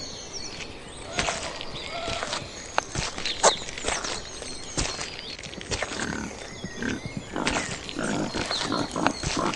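A cartoon wild boar grunting and snuffling in a forest hunting scene, close and fairly loud, with scattered sharp clicks and trotting footstep-like taps throughout.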